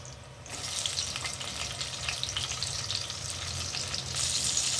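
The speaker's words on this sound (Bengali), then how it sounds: "এবার ওই তেলেই দিয়ে দিচ্ছি কালো জিরে ফোড়ন" Nigella seeds and slit green chillies fry in hot oil, giving a steady, dense sizzle and crackle that swells slightly when they hit the oil and stays even throughout, with no voices.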